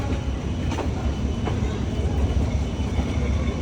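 A night train rolls past the restaurants lining Train Street in Hanoi, a loud, steady rumble with wheel clatter close by throughout.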